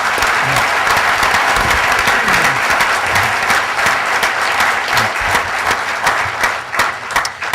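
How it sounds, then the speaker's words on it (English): Loud, continuous applause from a breakfast-event audience for a panel, a thick wash of clapping that holds steady for several seconds and tapers slightly at the end. "you please have a round of applause for all of our panelists"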